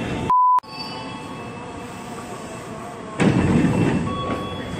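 A Tokyo Metro 6000 series commuter train arrives at a station in Jakarta, with a steady rumble of the approaching train after a short electronic beep, rising noticeably louder and rougher partway through as it draws near.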